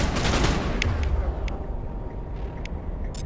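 Shotgun gunfire in the video game Mass Effect Legendary Edition, a dense burst of heavy blasts at the start that fades into quieter sporadic shots and crackles.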